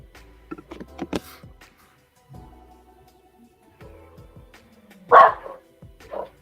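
A dog with cancer gives a few short, scattered barks and yips indoors, separated by quiet gaps with faint background sounds, and one louder bark near the end.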